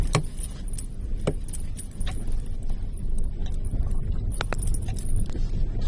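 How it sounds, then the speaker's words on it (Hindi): Tree branches scraping and ticking against a car body on a forest drive near Jim Corbett, Ramnagar: a steady rustling scrape with scattered sharp clicks and snaps over the low rumble of the moving vehicle. "पेड़ की टहनियां गाड़ी की बॉडी से रगड़ रही हैं"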